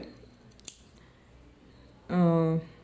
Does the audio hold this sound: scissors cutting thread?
yes